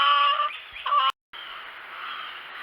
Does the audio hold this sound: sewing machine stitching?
no